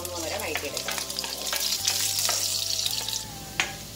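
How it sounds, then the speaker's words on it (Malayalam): Finely chopped ginger and green chilies sauté in a pan for palak paneer, a loud, close sizzle broken by repeated scrapes and clinks of a spoon stirring against the pan. "ഇഞ്ചി പച്ചമുളക് ഇത്രയും ചെറുതായിട്ട് നമുക്ക് നന്നായിട്ട് വഴറ്റി എടുക്കാം"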